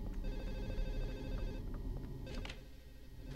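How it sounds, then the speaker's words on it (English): Telephone ringing in the video game Silent Hill 4: The Room, a steady electronic ring tone over a low ambient drone, fading out partway through with a couple of sharp clicks afterward. "I want that phone to stop."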